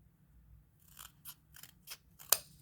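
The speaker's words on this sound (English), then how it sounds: "I probably could cut this down a little bit more." Scissors cutting cardboard for handmade dangles, five crisp snips in quick succession, close and fairly quiet, the last one sharpest.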